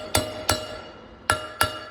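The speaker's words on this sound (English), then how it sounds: "We're going to take a good punch and hammer. We're going to give it a couple good whacks to get it started." Punch and hammer driving a wheel stud into a brake drum on a restroom trailer, four sharp ringing metallic strikes in two pairs, close and loud with a brief gap between.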